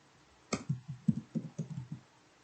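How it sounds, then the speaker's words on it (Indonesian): A command typed on a computer keyboard: about nine quick, close key clicks in a steady run lasting under two seconds, otherwise quiet. "Jalankan perintah berikut, yaitu dengan mengetik ls"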